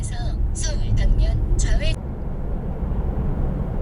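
A Mercedes E-Class cruises with a low, steady road and engine rumble from inside the cabin. A voice talks over it during the first half.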